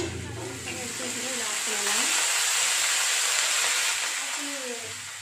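Dried red chillies and fresh mint sautéing in hot oil in a home kitchen, a steady loud sizzle and hiss that runs throughout while someone talks over it.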